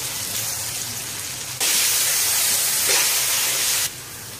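Keema sizzling in a pan with garlic-ginger paste and green chillies, a steady frying hiss that jumps suddenly louder midway and then drops back, close up with no speech.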